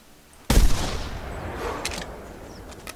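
A single loud rifle shot in the hunting game The Hunter, aimed at a puma, cracking sharply and then rolling into a long fading echo across open terrain.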